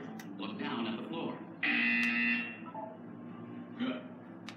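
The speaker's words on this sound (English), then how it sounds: "You will hear a buzzer." A flat electronic buzzer from the video game Portal sounds once for about a second, loud and steady, with a synthetic voice speaking before and after it.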